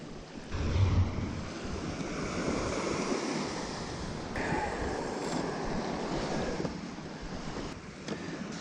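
Waves rolling onto a sandy beach beside a fishing pier, a broad continuous surf wash with wind buffeting the microphone, steady and fairly close, no voices.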